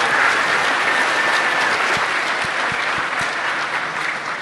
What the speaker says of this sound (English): Joe and Miles, give them a round of applause.